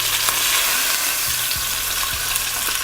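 Lamb shanks sear in a hot pan with a loud, steady sizzle and crackle of fat, and a few low knocks and scrapes as the meat shifts.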